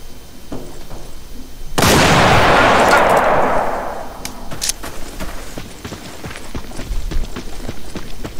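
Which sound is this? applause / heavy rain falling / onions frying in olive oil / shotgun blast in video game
shotgun blast in video game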